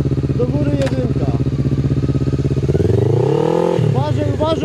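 A Honda CB 500 motorcycle engine idles with a steady throb, then revs up in a rising, whining surge before dropping back, close and loud.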